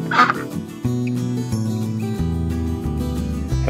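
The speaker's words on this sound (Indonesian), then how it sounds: "Hewan ini namanya bebek." A single short duck quack stands out at the start, set against continuous background music.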